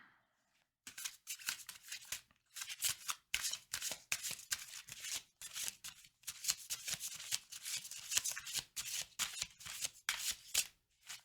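Oracle cards shuffled by hand in a long run of quick, crisp riffling bursts with short gaps between them, close and soft.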